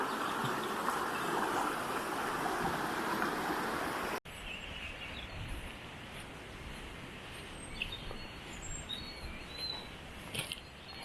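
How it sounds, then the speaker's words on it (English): Birds chirp and call at a distance in an outdoor natural area, farther from a river, after a rushing broadband wash of water that cuts off abruptly, leaving quieter ambience with scattered bird notes. "So as we go farther from the river, birds are more clear to hear."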